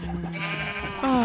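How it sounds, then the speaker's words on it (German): Minecraft sheep bleating in the game, a wavering nasal bleat that swells louder near the end, heard alongside background game sound. "Wir reden von Kaui, dem Schaf"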